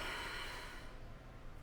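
A long, airy exhale during a yoga core-flow twist, a soft, close breath that starts strong and fades over about a second, heard alone.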